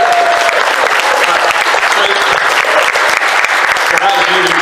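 A live podcast audience at a convention panel applauds steadily in a dense, continuous wash of many hands, with crowd murmur and some voices mixed in throughout.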